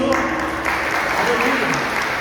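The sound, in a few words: applause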